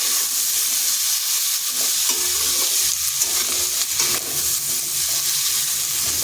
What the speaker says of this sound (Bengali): আলু আর কুমড়াটা একটু ভেজে নিচ্ছি।